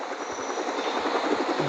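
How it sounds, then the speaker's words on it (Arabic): A helicopter flies in the video game Rope Hero, its rotor chop a steady, fairly close thrum that runs unbroken through the short stretch with no speech. "الطيارة الهليكوبتر كلها بتروح بيهم"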